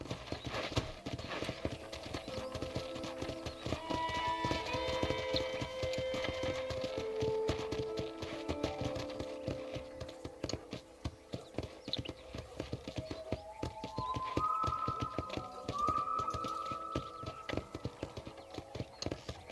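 Steady clip-clop of horse hooves at a walking pace in the video game Red Dead Redemption, with game-like music tones drifting over the rhythmic footfalls.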